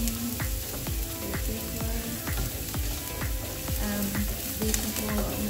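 Onion sautéing in a pan with a pinch of salt, a continuous close hiss of frying under repeated light knocks and scrapes from stirring.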